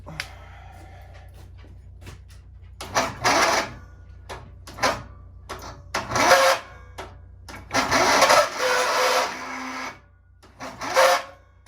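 A Jeep engine cranks with the choke out after a torque converter install, several separate bursts of starter churning of one to two seconds each with short pauses between them, none catching, and no talking.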